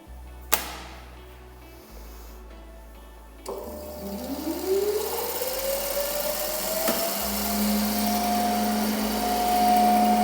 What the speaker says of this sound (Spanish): a través de nuestro motor de corriente continua